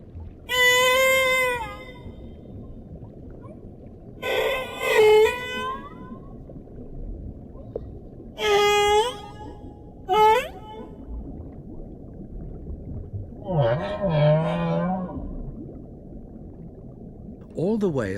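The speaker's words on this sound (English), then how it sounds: "All the whales in each ocean sing the same song." Whales sing underwater in the open ocean, a series of separate calls of varied shape, some bright and harmonic, others low and warbling, spaced apart by stretches of quiet murky background rumble, with no one talking.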